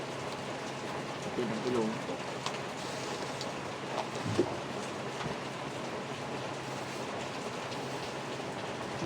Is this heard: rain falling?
yes